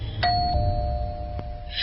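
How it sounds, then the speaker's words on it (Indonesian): A room doorbell in a radio horror drama rings with a single clear ding-dong chime that rings out and decays. The sound is near and fairly loud, with a faint second tone later and no voices. "bel kamar berbunyi lagi"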